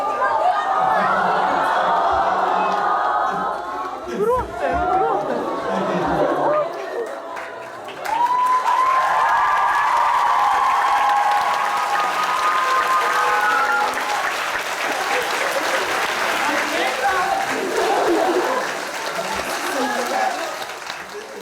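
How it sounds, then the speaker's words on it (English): A fan-meet crowd applauds and cheers, with dense clapping and raised voices that fade briefly, then return in a louder, sustained swell of cheering and chatter. "Some cheering and stuff going on."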